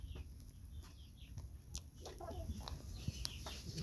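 Soft, scattered chicken clucks over a steady low background rumble, fairly quiet and intermittent, with no clear voices.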